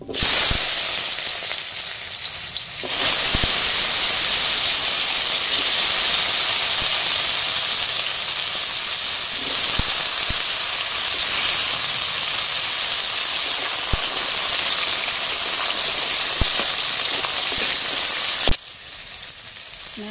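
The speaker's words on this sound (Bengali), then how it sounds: "তেল গরম হয়ে গেছে আমি আলু তুলে দিচ্ছি" Potato pieces frying in hot oil in a pan for an Indian drumstick curry: a loud, steady, continuous sizzle and hiss that swells after a few seconds and holds before easing near the end.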